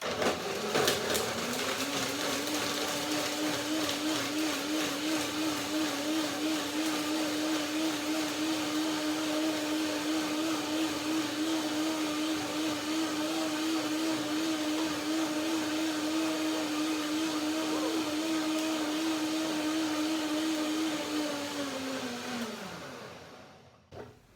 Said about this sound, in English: I blend again, a second blending, and I get my right texture